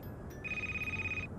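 A phone rings in the Christmas horror game Crimson Snow, a single steady electronic trill lasting under a second over low background hum, fairly quiet.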